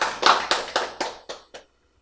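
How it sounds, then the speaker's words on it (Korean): Seven sharp hand claps ring out in an even rhythm at close range, each one slightly fainter than the one before, followed by silence. "박수!"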